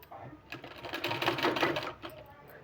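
A sewing machine runs in one short burst while stitching a fabric sleeve, building up and then stopping, with a voice talking faintly around it.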